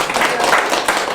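A lecture audience breaks into applause, a dense, steady wash of clapping filling the whole moment with no voices heard over it.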